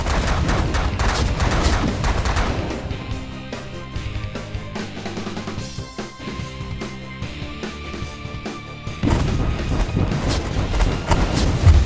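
Weapons fire in the strategy game The Last Federation, dense bursts of rapid gunfire and booming shots, loud at the start, thinning in the middle, then swelling again into heavy continuous volleys.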